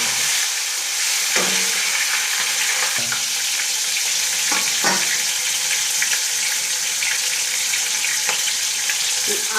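Tomato drops into hot oil with whole cumin in a frying pan, giving a loud continuous sizzle and crackle with occasional stirring knocks and clinks as it keeps frying close by.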